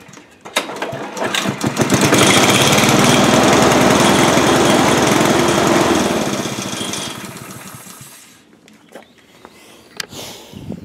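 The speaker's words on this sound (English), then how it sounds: "Just full choke. Let's give it a lazy pull start and see what happens." A cold lawnmower engine on full choke is pull-started slowly, sputtering into a loud, rough buzzing run that holds for several seconds, then fades and dies back to scattered clicks and handling noises.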